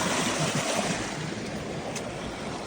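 Water from a stream rushes through a flooded rice field, making a steady broadband wash that is loud and close, easing slightly after the first second, with no voices.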